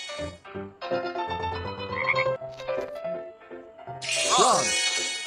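A cartoon frog croaks loudly in the children's educational game Baby Panda's School Bus. Its warbling croaks are clearly heard over cheerful, melodic game music, ending in a burst of quick ribbits.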